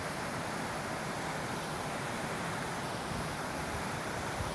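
Heavy snow-melt runoff rushes through a Colorado state park, a steady, dense roar of flowing water that holds at an even level throughout with no voices.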